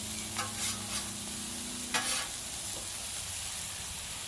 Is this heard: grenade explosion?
no